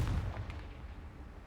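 A Confringo fire spell explodes in the game Hogwarts Legacy, one short booming burst at the start with a rumbling tail that fades over the next second, heard alone.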